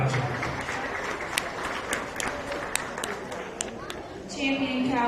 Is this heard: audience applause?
yes